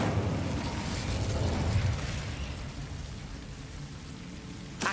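The Incendio fire spell in Hogwarts Legacy bursts into a loud, broad whooshing roar of flame that slowly thins and fades, ending in a brief sharp pop.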